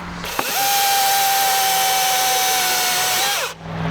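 A new chainsaw cuts through wood with a loud, steady, high whine that holds for about three seconds, then dies away. It starts and stops abruptly, with no voices.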